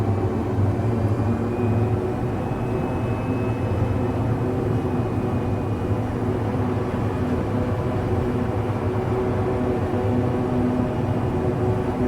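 Steady broadband engine drone of a light airplane in Microsoft Flight Simulator 2024, flying on approach to land with flaps down, a constant even roar with no talk.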